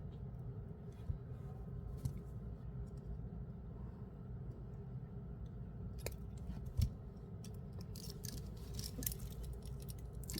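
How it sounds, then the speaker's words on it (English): Scissors snip excess thread while beading a necklace, a few quiet crisp cuts over a low background rumble, the clearest cluster in the second half. "Now I'll cut off the excess."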